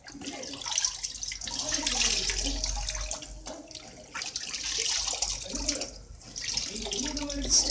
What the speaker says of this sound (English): I'll squeeze out the excess water